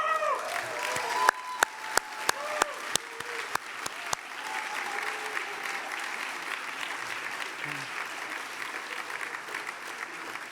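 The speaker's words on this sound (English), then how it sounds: "Let's clap again." A crowd at an award ceremony for an architect breaks into sustained applause, dense clapping that carries on steadily after a few sharp bangs near the start.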